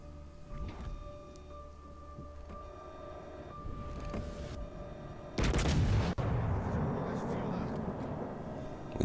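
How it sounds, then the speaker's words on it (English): A battleship's main guns fire a heavy booming salvo in World of Warships Legends, a loud burst that rumbles on afterward, with someone talking over the game sounds before and after the shot. "We take a shot here at the DeGrosser."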